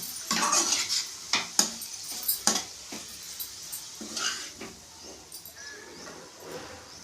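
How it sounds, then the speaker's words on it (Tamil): A ladle scrapes and clinks against pan and bowl while snake gourd stir-fry with curry leaves is served, with a series of sharp metallic taps and knocks and soft scraping, close up, gradually thinning out. "கிண்ணத்தில் சர்வ் பண்ணிப்போம்"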